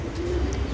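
Breeding pigeons of fancy patta breeds cooing softly in a loft, a low continuous murmur with no speech.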